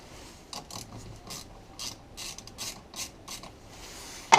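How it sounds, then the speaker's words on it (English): Ratchet clicking while loosening nuts on the starter motor of a VW Golf Mk4, a series of short, crisp metallic ratchet bursts in a steady rhythm, close by and fairly quiet, with no talking. "Now we'll loosen these nuts."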